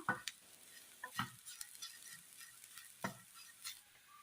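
Masala being sautéed in a pan for a fish curry: a soft background sizzle broken by a few sharp scrapes and taps of a spoon stirring against the pan, close and quiet, with no talking.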